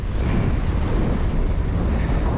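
Strong icy wind buffets the microphone while cycling along an open stretch of road, a loud, dense, continuous rumble with no break and no voices.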